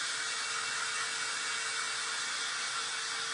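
A handheld dryer blows steadily over wet paper in a craft session, a constant close, loud airy hiss with a faint whine that runs unbroken throughout and has no talking.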